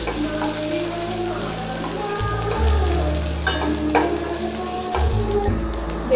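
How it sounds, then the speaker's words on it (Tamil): Sliced onions sautéing in a pan until brown, a steady close sizzle and crackle of frying with occasional stirring scrapes, loud and continuous. "வெங்காயத்தை நல்லா ப்ரௌனாக வதக்கிக்கலாம்."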